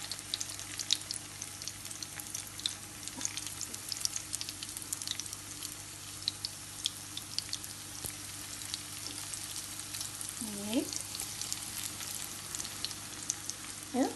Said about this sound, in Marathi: मातशें मिडियम फ्लेमाचेर त्यो फ्राय करून घेवपाचें